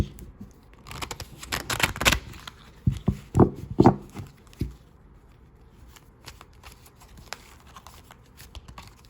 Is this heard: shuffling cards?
yes